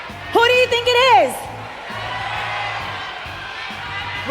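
A crowd at an MSC esports match cheers, led by a loud rising-and-falling whoop from one voice, then settles into a sustained roar of many voices under an announcer's talk.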